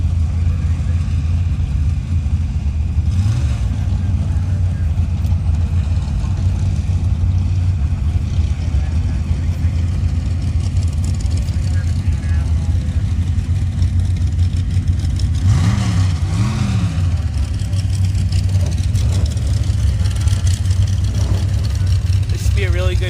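Pro 3 sand drag race cars at the start line of the Avenal Spring Nationals bracket eliminations, a steady loud engine roar with a couple of rising revs, an announcer talking over it throughout.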